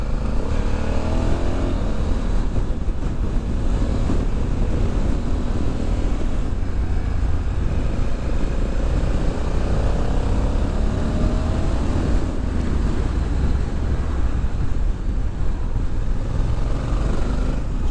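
A 2020 Honda Africa Twin Adventure Sports DCT motorcycle pulls in third gear, its engine a steady, loud, slightly laboured drone with wind rush heard from the rider's position, no voices over it.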